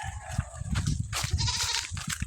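Goats bleating on a farm, several overlapping calls in quick succession, fairly close and loud, with no talking.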